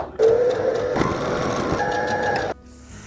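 A sewing machine top stitches pajama pants in one continuous whirring run of about two seconds, close and moderately loud, and stops abruptly at the end of the seam.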